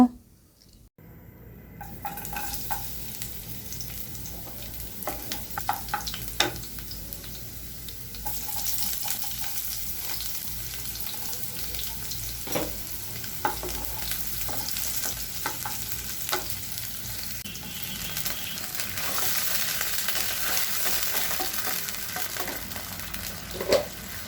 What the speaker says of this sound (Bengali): এখন রান্না করব, পুঁই শাকটা রান্না করব চিংড়ি মাছ দিয়ে